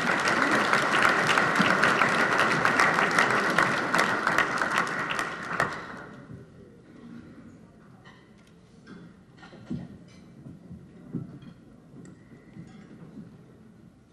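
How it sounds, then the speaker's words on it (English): A dinner audience at a crime line awards event breaks into dense applause for a sponsor, loud and sustained for about six seconds before quickly dying away into scattered faint claps and quiet room noise. "Let's give her a round of applause."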